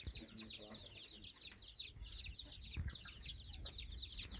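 Aseel chickens cluck and chatter in a rapid, busy stream at a farm where a hen sits on eggs, the calls close and fairly soft over low rumbling background noise.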